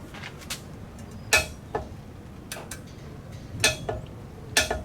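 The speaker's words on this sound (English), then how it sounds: "we got our torque wrench" A torque wrench clicks several times as an outboard prop nut on a 2008 Mercury Pro XS is tightened, giving sharp, close metallic clicks in small clusters over a quiet background with no talk.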